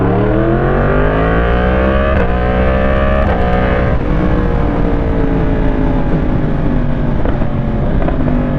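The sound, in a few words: Yamaha MT-10 SP motorcycle engine accelerating in first gear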